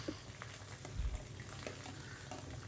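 Cabbage, capsicum and carrot fry in a pan with a steady, moderate sizzle and crackle throughout, a brief louder surge near the middle, and no talking.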